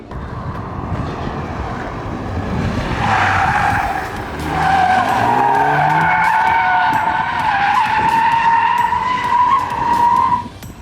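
A tuned 2015 facelift BMW M5 F10, Stage 1+ with 720 hp, races at a BMW competition in Dushanbe, its engine roaring loud and close while tires skid and squeal in long sustained screeches.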